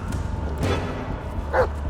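A dog in the horror video game Blair Witch, set in a forest at night, gives a couple of short barks, one faint and one louder and closer, over a low, continuous ambient rumble.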